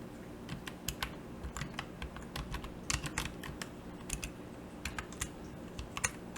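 Quiet, steady typing on a computer keyboard, a stream of soft close key clicks with occasional firmer presses over a faint constant hum.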